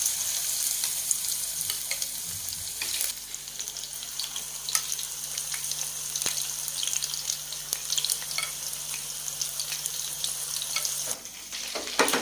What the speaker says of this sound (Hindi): हमारा चिकन फ्राई हुआ है।